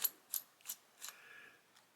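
Small, faint clicks and ratcheting ticks come from a miniature cross-point screwdriver backing tiny screws out of a Canon SX720 camera casing, several short taps spaced about a third of a second apart, then a brief squeak.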